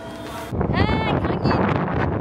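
Strong wind buffets the microphone, a loud steady rush and rumble that starts abruptly and continues, with someone speaking over it.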